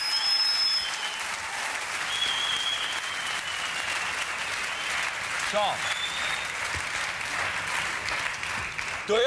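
A studio audience at a German late-night talk show applauds steadily and loudly throughout, a dense continuous clatter of clapping hands with no pause.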